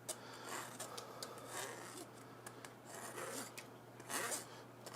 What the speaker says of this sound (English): now you're just going to scrape off the bottom of the strainer